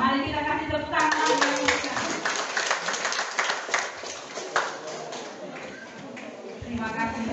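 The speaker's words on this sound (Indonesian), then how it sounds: "mari kita kasih tepuk tangan" Audience members at an education office gathering clap their hands, a loose burst of claps with individual hand strikes audible, fairly close and moderate in level, fading a little toward the end.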